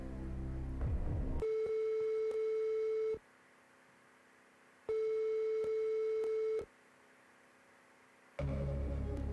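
A telephone on the French game show Qui veut gagner des millions sounds during the phone-a-friend lifeline, with two long steady tone bursts separated by pauses and loud music at the start and end.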